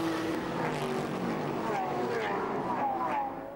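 A Mercedes and a Porsche GT race car roar past at the 2012 Nürburgring 24-hour race, their engines loud and close, then fading away. A commentator's voice is faintly audible underneath.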